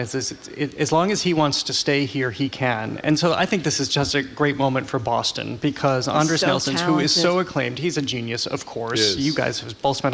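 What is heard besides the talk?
No everyday noise stands out behind the speech.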